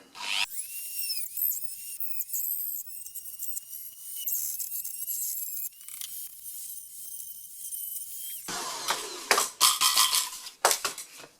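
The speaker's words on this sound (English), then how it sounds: "So what I'm doing is I'm using a Dremel with nice bits to Dremel out. So let's make some noise." A Dremel rotary tool grinds out a part of a V-tail model glider, a high whining buzz that runs steadily for several seconds, then turns into rougher, choppy grinding bursts as the bit bites into the material.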